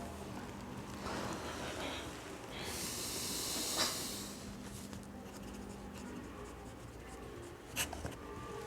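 Chalk or marker writing on a board during a geography lecture, faint scratchy strokes with soft taps in a quiet room.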